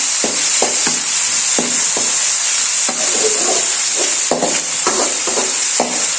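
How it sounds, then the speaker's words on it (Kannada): Tomato and coriander leaves frying with onion in a pan, a loud close sizzle with repeated rhythmic scrapes and taps of a spatula as they are stirred, no one speaking. "ಇದೆರಡನ್ನೂ ಚೆನ್ನಾಗಿ ಫ್ರೈ ಮಾಡ್ಕೊಬೇಕು"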